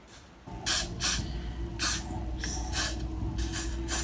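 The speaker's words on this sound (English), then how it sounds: "I'm just going to go ahead and spray that in my part as well" Repeated short blasts from an aerosol hair freezing spray can hiss close by, sprayed onto a lace front wig part, about eight sprays in a loose rhythm over a steady low background hum.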